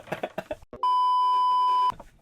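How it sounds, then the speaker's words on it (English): A loud, steady electronic beep tone holds for about a second after some talking, then cuts off as the voices resume. "Beep beep."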